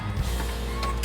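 Electric motor on a custom Porsche Boxster capsule canopy whirs briefly and steadily as the canopy closes, close by and alone.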